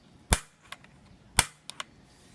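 A potato cannon's igniter snaps with sharp, close spark clicks: two loud cracks about a second apart, each followed by fainter smaller ticks, in otherwise quiet surroundings.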